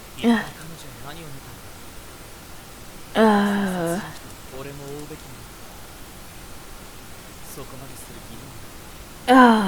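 Rain in the horror game Corpse Party: Book of Shadows, a steady soft hiss under the whole clip, quiet and even, with a voice speaking in brief bursts over it.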